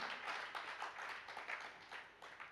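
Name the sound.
audience applause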